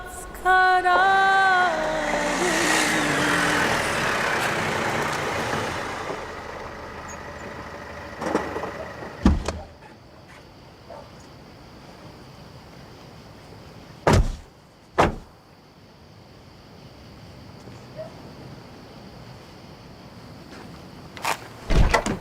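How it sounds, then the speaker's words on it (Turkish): A car pulls up with a rising engine and tire noise that fades out. Several sharp, close door thumps follow over a quiet background, spaced apart, with a last one near the end. No one talks. "Ben araba sesini duyunca"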